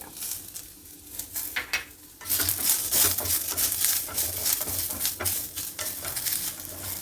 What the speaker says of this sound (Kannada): ಈರುಳ್ಳಿ ಎಲ್ಲ ಚೆನ್ನಾಗಿ ಫ್ರೈ ಮಾಡಿಕೊಳ್ಬೇಕು